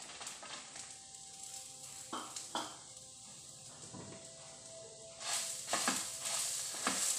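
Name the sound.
frying chili, fenugreek, cumin and onion in a pan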